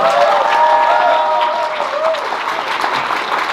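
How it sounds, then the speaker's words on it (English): Loud, dense crowd applause at a convention's closing ceremony for the guest department, a steady wash of many hands with cheering and a few voices over it. "I just want to give a round of applause to the entire guest department because they're amazing"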